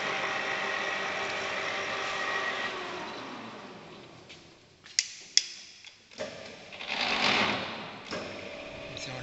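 A lathe spindle and chuck turn at a reduced speed of about 70 rpm, set up for thread cutting. A steady mechanical whir fades out partway through and gives way to a few sharp ticks and clunks near the machine.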